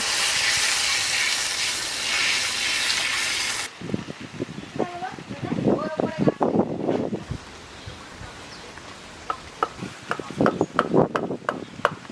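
Water is poured into a hot pan in a village kitchen and gives a loud, close, broad hiss for about four seconds before it cuts off abruptly. A voice talks afterwards, over light clatter.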